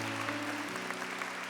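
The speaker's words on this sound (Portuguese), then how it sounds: "eu quero pedir uma salva de palmas para Nossa Senhora mais uma vez" Applause from a gathered congregation honouring Our Lady at Canção Nova, a short, faint patter of clapping over a low sustained tone.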